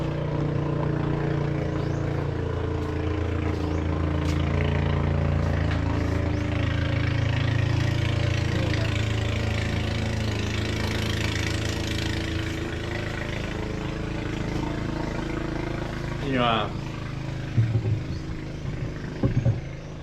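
A fishing boat engine drones steadily at close range as it passes, swelling gently mid-way and then easing off, with a few light knocks near the end.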